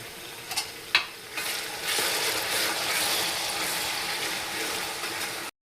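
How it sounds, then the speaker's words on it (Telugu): Water added to a pot for zeera rice, a couple of soft clunks and then a steady hissing rush of liquid that continues for several seconds before stopping abruptly. "రైస్కి సరిపోయేంత వాటర్ యాడ్ చేసుకోవాలి."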